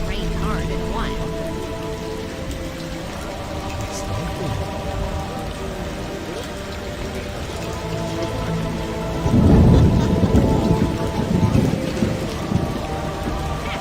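Continuous rainfall patters in a stormy scene from the PC game The Witcher, with faint speech-like tones layered in, until a loud crash of thunder rolls in about two-thirds through and slowly fades.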